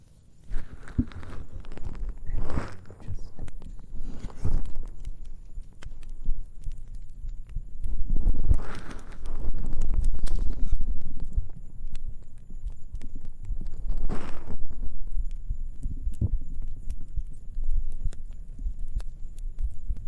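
Heartbeat heard through a chest in a close binaural ASMR recording, a deep muffled thumping with a slow steady rhythm, intimate and near, with soft rustling between beats and no talking.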